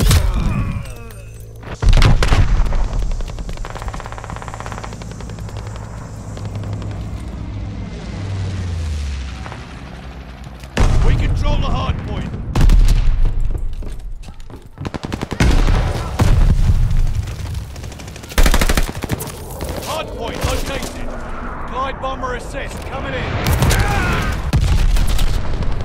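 Gunfire and heavy booms from a Call of Duty Mobile hardpoint match come in bursts over a steady game soundscape, with loud thuds and blasts breaking in irregularly throughout.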